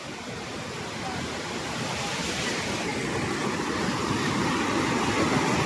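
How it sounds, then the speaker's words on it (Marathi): The Khaire waterfall roars as a dense, continuous rush of falling water that holds steady and loud throughout, with no other distinct sounds on top. "हे बघा धबधब्याचा तुम्हाला आवाज येत असेल"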